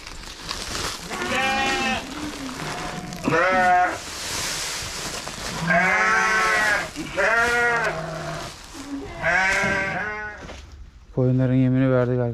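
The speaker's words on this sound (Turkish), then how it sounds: "Onun yavrusu yabancıladı, o bağırıyor." Sheep and a lamb bleat repeatedly on a Turkish farm at feeding time, a series of loud, wavering calls about every second or two, one higher and thinner near the end, with someone talking between them.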